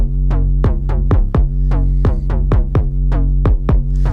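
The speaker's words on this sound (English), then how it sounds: "now you can hear the bass melody and the 808 and the kick too" A deep, booming bass melody with 808 and punchy kick hits repeats in a steady, even rhythm, loud and up front with no voices.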